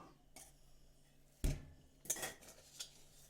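Cooked semolina being tipped from a pan onto a plate, a few sharp metallic clanks and scrapes of a spoon and pan spread over a few seconds in a quiet kitchen.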